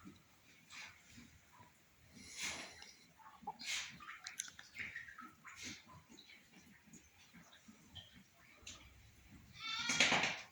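Ewes and newborn lambs bleat in a barn at lamb-and-mother reunion time, with several calls scattered over ten seconds and a loud, close cry near the end, amid faint rustling.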